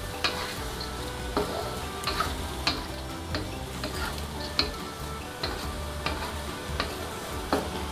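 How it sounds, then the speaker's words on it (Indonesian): Bean sprouts and chayote stir-fried over high heat in a pan, a steady sizzle under regular scraping stir strokes and clinks from the utensil against the pan, repeating roughly every half second. "Sambil diaduk rata seperti ini"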